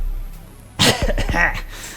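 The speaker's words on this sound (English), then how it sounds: "downs most in one gulp, and coughs wretchedly" A person coughs harshly after gulping down a drink, one sudden loud hacking burst followed by a few rougher, throaty coughs, close up with quiet background before it.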